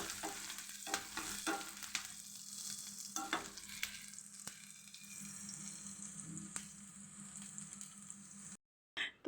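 A tempering of spices added to amaranth stem greens (data shak) in a hot pan, giving a steady close sizzle with scattered clinks and stirring scrapes for most of the stretch, then a brief pause and a final knock.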